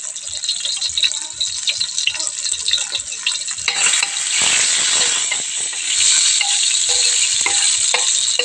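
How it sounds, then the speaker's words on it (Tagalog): Garlic and ginger frying in a pan make a steady, close sizzle with stirring throughout, swelling louder about halfway through; no one speaks. "Antayin natin maging brown yan. Bawang at kaluya."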